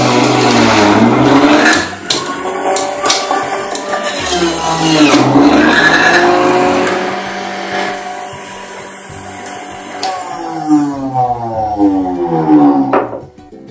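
Electric juicer pressing beetroot pieces for red dumpling dough, a steady close motor whine with rising and falling pitch sweeps as the chunks are forced through, running continuously without talk.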